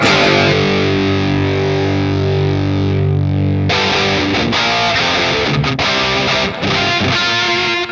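A heavily distorted electric guitar plays through an amp fitted with its original lower-gain mod module, sustained chords first, then choppy palm-muted riffing, loud and up close with no talking.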